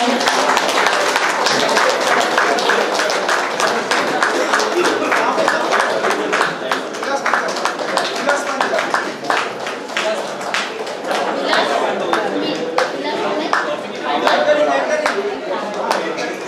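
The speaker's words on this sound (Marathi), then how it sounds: "आपल्या टाळ्या चालू राहू" An audience at a senior citizens' programme keeps up dense, steady clapping, with someone talking loudly over the applause the whole time.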